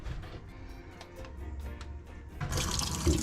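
RV antifreeze glugging and splashing as it is poured down a camper drain into the gray tank, a trickling stream that grows to a fuller rush near the end, with no speech.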